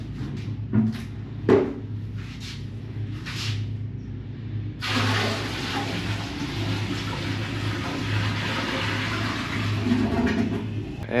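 Water rushes steadily out of a truck camper's gray water tank at a campsite in Baja, Mexico, preceded by a few brief knocks and clunks, then a continuous hissing flow.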